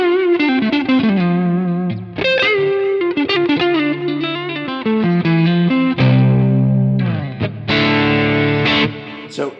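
Electric guitar through a Friedman amp capture with a gritty, edge-of-breakup tone plays chords and riffs, notes slightly crunchy with delay and reverb trailing behind.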